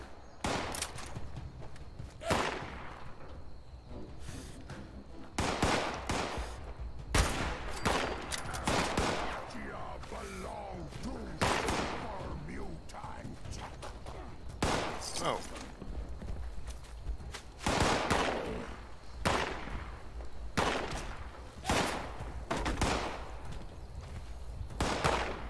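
Repeated bursts of gunfire while hunting in Fallout 76, scattered sharp shots and short volleys spread across the stretch, fairly close, with players talking between and over them.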